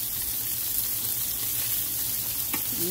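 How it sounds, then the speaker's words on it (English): Fish fillets, salmon or tuna, pan frying in a pan, giving a steady close sizzle and crackle throughout, with a brief clink of a utensil near the end. "All the fish is out from being pan fried or sauteed."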